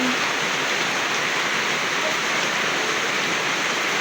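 Heavy rain pours down steadily outside a home, a dense, even hiss that holds at the same loudness throughout with no voices.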